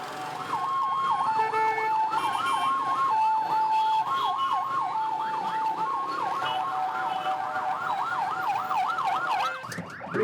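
An ambulance siren wails in Port-au-Prince traffic, Haiti, a loud, steady, rapidly repeating rising-and-falling yelp lasting nearly the whole time before abruptly cutting off.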